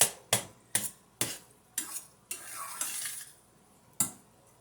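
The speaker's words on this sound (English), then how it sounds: "And we'll stir and let cook for a bit and reduce some of this juice in here." A utensil scraping and knocking against a pan while stuffed bell pepper filling is stirred over medium-high heat, with roughly eight sharp clinks at an uneven rhythm, close and moderately loud, and a faint sizzle between strokes.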